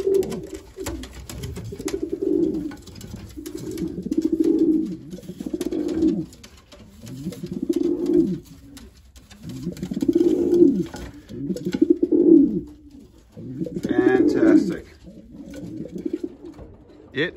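Racing pigeons in a loft give repeated low, throaty coos in a slow rolling rhythm, close and fairly loud, with faint rustling in the background.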